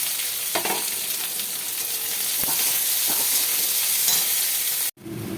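Chopped onion sizzles in hot oil in a pan, producing a constant close, loud frying hiss with scattered pops before the sound cuts off abruptly near the end.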